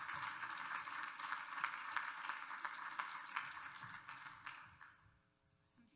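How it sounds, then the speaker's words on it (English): An audience claps at the end of a forestry talk, a steady, faint wash of applause that thins out and fades in the last second. "How about one more round of applause for everybody?"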